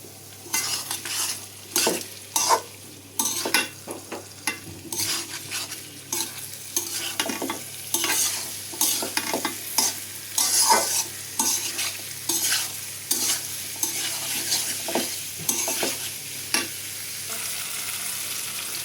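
Vegetables sauté with spices in a pot for vegetable khichuri, with rhythmic spoon scrapes and stirring knocks repeating over a soft, continuous sizzle close by.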